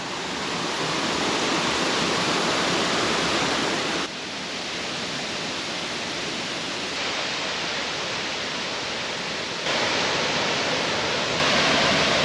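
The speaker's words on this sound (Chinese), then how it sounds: "下面要越过小溪涧，小溪涧应该也是大雨过后才会有这么丰沛的水量" A small mountain stream swollen after heavy rain on a trail in Nanzhuang, Miaoli, rushing in a loud, steady, broadband wash with no pauses, heard up close and alone.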